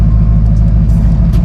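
A car with a turbocharged FRS driveline being towed home on a tow rope, heard as a steady low road rumble and engine drone that holds close and even throughout, with no voices.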